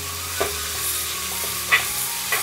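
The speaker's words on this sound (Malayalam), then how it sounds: "ഇഞ്ചിയുടെയും വെളുത്തുള്ളിയുടെയും ആ പച്ചച്ചുവ ഒന്ന് മാറുന്നവരെ ഒന്ന് ഇളക്കി കൊടുക്കാം." Ginger and garlic, with curry leaves, sizzle steadily in a hot pan while a utensil stirs them, with a few sharp scraping clicks over the constant frying hiss and no talking.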